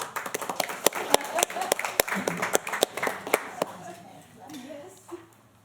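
Board members and attendees at a school board meeting clapping, sharp, fairly close hand claps at an uneven pace that thin out and die away, with a murmur of voices underneath and quieter talk afterward.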